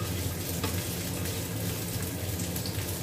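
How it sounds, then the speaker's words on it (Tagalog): Garlic and ginger sautéing in a pan give a loud, dense, steady sizzle of hot oil that stays close and unbroken throughout. "Ikisa natin hanggang sa maamoy natin yung bango ng, ano, ng bawang at saka luya"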